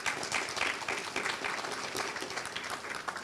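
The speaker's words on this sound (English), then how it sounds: "a round of applause for them" Audience applause at a Greater Atlantic City Chamber leadership luncheon honoring its board members, a steady dense wash of many hands clapping at moderate distance, sustained throughout with no break.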